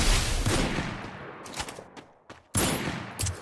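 Gunfire in the battle game Free Fire sounds as a dense burst of shots, then scattered single cracks and a quieter lull, before another sharp volley erupts near the end.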